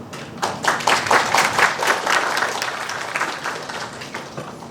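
Conference audience applauds a professor as he is introduced, steady dense clapping from a room of people lasting several seconds and slowly thinning out.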